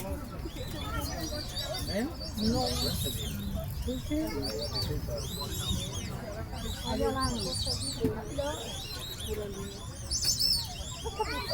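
Small birds, caneleiras and caboclas, chirp and tweet repeatedly in a busy flock at São Paulo Zoo, bright calls overlapping throughout while people talk nearby.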